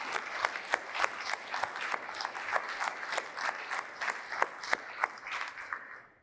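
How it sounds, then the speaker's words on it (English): An audience inside Independence Hall in Philadelphia, the original House chamber, gives a warm round of applause, dense clapping with sharp louder claps, holding steady for several seconds before fading out at the end. "I hope you'll join me in giving them a round of applause."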